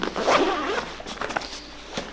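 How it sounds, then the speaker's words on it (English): The main compartment of a Manfrotto Manhattan Mover 50 camera backpack is unzipped in a quick, close zipper pull lasting about a second, followed by a few soft rustles and handling taps. "And then from the main compartment, you zip this open."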